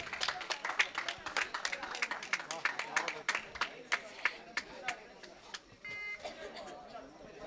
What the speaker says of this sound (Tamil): கொஞ்சம் கைத்தட்டல் கொடுங்க.